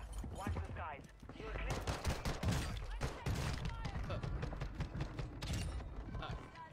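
Gunfire in the video game Warzone, bursts of rapid shots and crackling impacts packed densely across the clip, loud and close, with game sounds and what may be voices mixed in.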